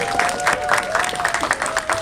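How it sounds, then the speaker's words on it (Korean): Applause from a cinema audience at a film Q&A screening, a dense rolling mass of clapping with a faint cheer throughout, a steady tone running underneath. "여러분께서 박수를 한번 크게 보내주셔야 될 것 같아요"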